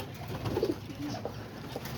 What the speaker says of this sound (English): And then I got another 2 pair of white pigeons in here.